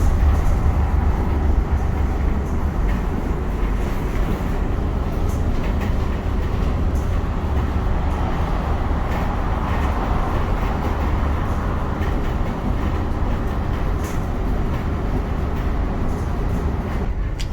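A Daimler CVG6 bus cruises along a straight route with no gear changes, giving a steady, loud engine and road rumble inside the vehicle with faint rattles over it.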